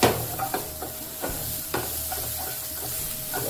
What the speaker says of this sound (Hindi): मिर्ची एंड सारे वेजिटेबल्स हम लोग को अच्छे से ऑयल में सॉटे कर लेंगे।